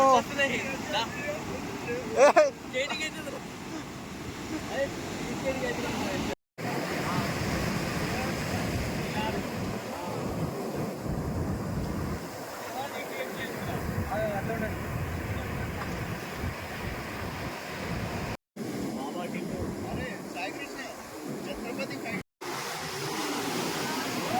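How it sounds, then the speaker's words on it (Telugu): Continuous roar of surf breaking on Chirala beach, blended with gusty wind buffeting the microphone, with occasional voices. "గైస్ అలలు మాత్రం క్రేజీ గైస్"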